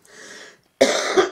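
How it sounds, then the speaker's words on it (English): Two dry coughs from a woman with a lingering cough, the first softer and the second louder and harsher, close to the mic. "my cough is just lingering a little bit."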